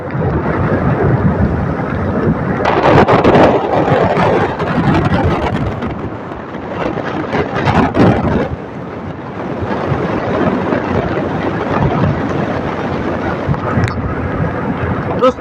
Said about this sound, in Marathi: नुसता पावसा बडवा लागले तोंडावर आमच्या